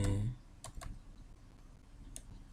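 Typing on a QWERTY computer keyboard while building an epidemiological study database, a few soft, close key clicks in small bursts over a quiet room.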